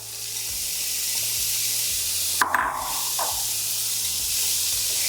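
Vegetables hit hot oil for a vegan chilli, giving a steady broad hiss of sizzling with a brief louder clatter and burst of frying as they land in the pan, heard close.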